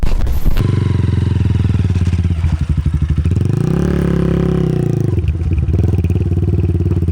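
A Geon Scrambler 250 motorcycle idles close by with a loud, rough exhaust and a pulsing single-cylinder rhythm. Midway it revs up and then falls back to idle, with some clatter and no voices.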